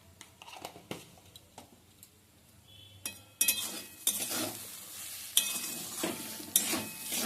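Soybean momo filling frying in a pan, with quiet scrapes and clinks of a spoon at first, then loud bursts of sizzling as it is stirred, close and uneven.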